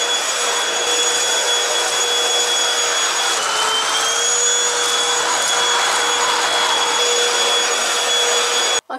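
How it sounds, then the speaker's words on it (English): A vacuum cleaner hoovers a home in the UK, a steady loud motor whine with a high tonal hum running continuously and close, cutting off abruptly at the very end. "I've hoovered mostly everywhere."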